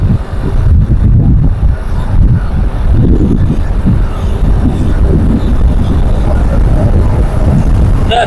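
Strong wind on the Hogenakkal highway in Tamil Nadu buffets a moving vehicle, making a loud, constant rumbling roar with gusty low-pitched wind noise throughout.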